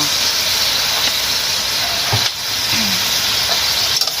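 Pork stir-fried with kale in a hot pan makes a loud, unbroken hiss of sizzling, broken by a few scraping clicks of the utensil, with no talking.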